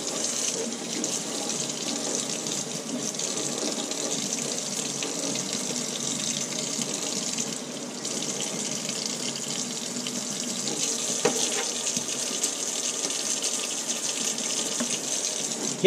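Water runs steadily from a tap into a sink with a constant hiss. The flow stays even for about sixteen seconds, with no talking.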